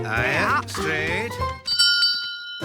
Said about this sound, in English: Yeah, I know the bell sounded like it's that way